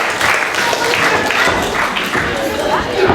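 Crowd at a W3L wrestling show in Broxburn cheering and clapping in waves, a loud, lively din with a commentator talking over it.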